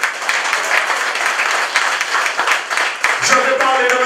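Audience applause at a municipal election rally, a crowd clapping continuously at moderate distance while someone speaks over it, with other voices rising near the end.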